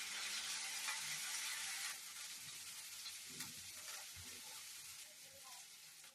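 Green chillies and chopped ginger sizzle steadily in hot oil in a home kitchen, a base for dhaba-style aloo paratha filling; the hiss is loudest for the first couple of seconds, then settles into a slightly softer continuous frying crackle.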